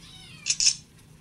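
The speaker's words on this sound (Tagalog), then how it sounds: "Yung pusa." A cat meows twice in quick succession, fairly close and clear, with quiet room background before and after.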